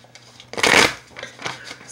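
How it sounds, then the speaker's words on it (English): A deck of tarot cards is shuffled up close, with a loud riffling burst in the middle followed by softer flicks and handling sounds. "If I can shuffle these cards at all."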